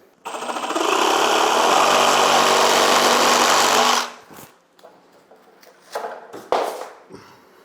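A power saw cuts through a wall during demolition in a kitchen remodel, with one loud, close, sustained buzzing burst of about four seconds, followed by quieter knocks and handling noises.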